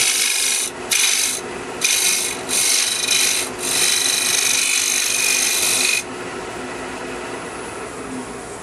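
Rough, junky lumber being scraped for a birdhouse: repeated harsh rasping strokes up close, several bursts separated by short pauses, ending with a quieter steady hiss.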